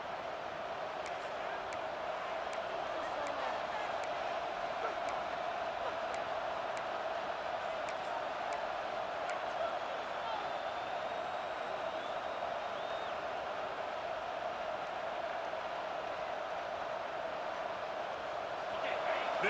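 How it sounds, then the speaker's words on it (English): Stadium crowd noise in the college football game EA Sports College Football 26, a steady, continuous roar of a large crowd holding at one level throughout, with a commentator's voice faintly mixed in. "This crowd going to try to make life miserable for these guys."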